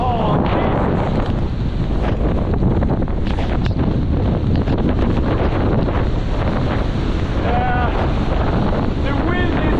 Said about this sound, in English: winds I have ever experienced on this road.